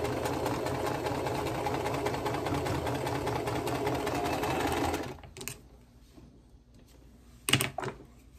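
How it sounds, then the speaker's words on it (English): Sewing machine stitching a half square triangle corner to corner for a quilt block, running steadily and loudly for about five seconds before stopping, followed by quieter handling noises and a brief sharp clatter. "Sew corner to corner."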